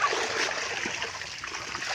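Rinsing water splashes and trickles steadily outdoors in a rural setting, a continuous close wash of flowing, splattering water with no talk.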